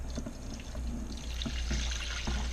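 Room-temperature chicken stock poured into a hot pan on medium heat, a steady close splash and trickle running throughout with a few slightly louder glugs.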